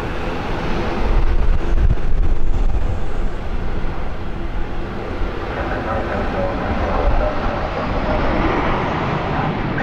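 A Bahamasair airliner lands on runway 10 amid a loud, continuous rumble of engines and wind that stays steady throughout, with a brief voice heard faintly under the noise.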